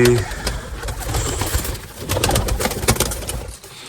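Low, soft cooing of several pigeons mixed with rustling and fluttering, a busy close-up murmur that continues throughout.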